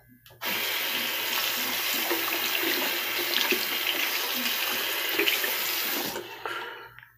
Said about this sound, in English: Rinse off my stand real quick.